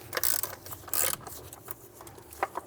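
A ratchet clicks in two quick bursts, then a few softer taps, while a bolt is worked loose on the intake manifold of a BMW N55 engine.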